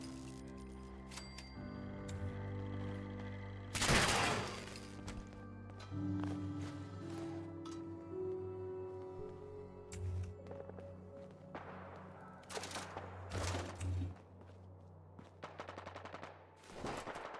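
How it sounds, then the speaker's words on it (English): Bursts of gunfire in Fallout 4, rapid volleys and single shots scattered over a droning electronic soundtrack, fairly loud with gaps between. "That's definitely gunfire."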